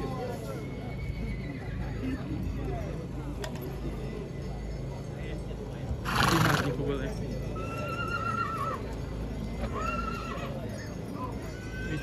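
Young mares neighing at a bustling horse market for draught horses in Sighet, with several whinnies rising above a steady crowd murmur and people talking, one loud close neigh near the middle and fainter calls farther off.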